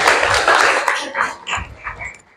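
Classroom applause from students clapping their hands, a brief dense burst of clapping at close range that thins out and fades within a couple of seconds, with a few voices mixed in.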